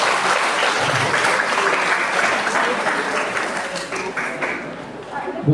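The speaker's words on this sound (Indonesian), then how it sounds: "luar biasa, tepuk tangan ya" Sustained audience applause at a high school showcase event, a dense steady wash of clapping that runs the full length, with a brief voice near the end.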